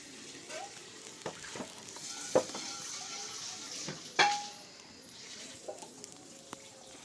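Lentil fritters (bora) dropped into hot oil, a low sizzle under sharp clinks of a utensil against the pan, with a few scattered knocks.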